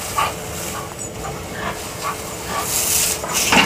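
Alapaha Blue Blood Bulldog chasing a water spray, with scattered short barks and whimpery panting over steady running-water hiss, moderately near.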